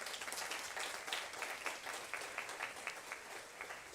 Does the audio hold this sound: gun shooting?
no